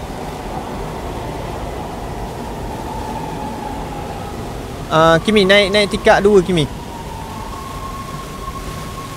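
A train runs in the Roblox game The Mimic, heard as a steady mechanical rumble with a thin tonal hum beneath it; a player speaks briefly partway through, and a louder burst of sound rises over the train for about a second.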